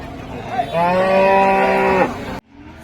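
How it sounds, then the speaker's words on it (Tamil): A cow at the Karimangalam cattle market gives a long, loud, close moo of about one and a half seconds, rich and tonal, against background market murmur that cuts off abruptly afterward. "இந்த வாரம் நல்ல பெரும் பெரும் மாடுங்களா வந்திருக்கு"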